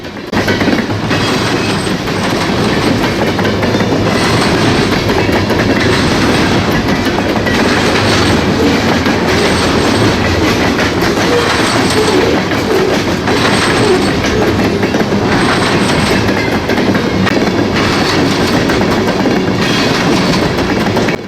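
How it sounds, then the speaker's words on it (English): A long CSX freight train of natural gas tankers rolls steadily past on the Columbus Subdivision, a continuous heavy rumble with rhythmic clickety-clack of wheels over rail joints, loud and close throughout. "This train, however, is mostly comprised of natural gas tankers."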